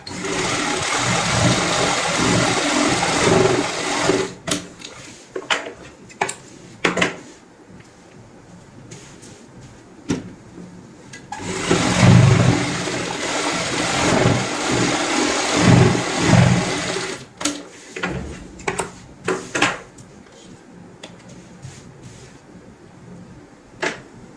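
A sewing machine stitching along marked lines on a designer cushion cover, running in bursts of whirring with short pauses and clicks between seams, close and fairly loud.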